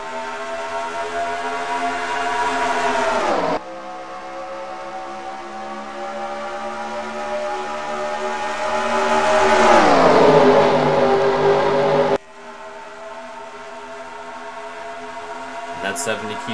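Race cars accelerating at a green-flag start at Texas World Speedway in a sim racing game, a steady engine whine climbing and swelling in pitch as the pack pulls away, with a commentator talking over it.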